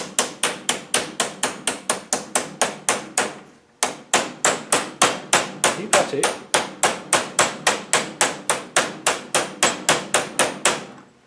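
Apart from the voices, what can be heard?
gently tapping tappet with a hammer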